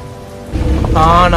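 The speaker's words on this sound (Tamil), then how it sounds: "சரியான மழை, 2 மணி நேரமாக ட்ராவல் பண்ணிக்கிட்டு இருக்கோம், மழை விட்டதே இல்லை." Heavy, steady rain pours down during a long tricycle journey across India, a dense hiss that swells and grows louder partway through, with a person talking over it near the end.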